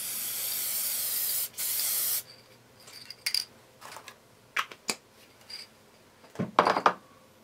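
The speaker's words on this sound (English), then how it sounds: "I'm gonna take my spray adhesive." Spray adhesive hisses from an aerosol can in two steady bursts, close and fairly loud, used in a room while working on an art journal page. Quieter tapping and handling noises follow.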